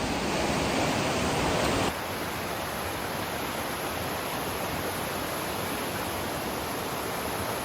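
A steady, loud roar of rushing water from a waterfall fills the whole clip, dipping slightly in level partway through but never pausing.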